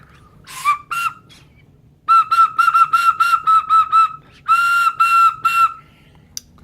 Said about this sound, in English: A backpack whistle.